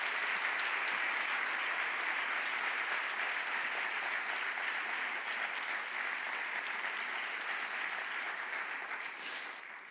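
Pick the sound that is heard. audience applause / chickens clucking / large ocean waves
audience applause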